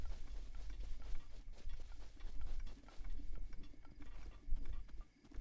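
Horse hooves in the Zelda video game, a steady patter of soft clip-clop beats approaching over a low rumbling game soundscape, fairly faint throughout.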